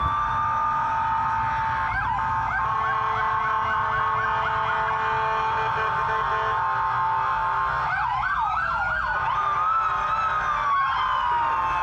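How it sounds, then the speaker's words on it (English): Police car sirens wailing loudly in gridlocked city traffic, several overlapping rising and falling tones that sweep and yelp, continuous over a steady traffic rumble, with no talking. "the police have been trying to use it to get through, to get around the gridlock traffic. They didn't hit the lights and sirens until they needed"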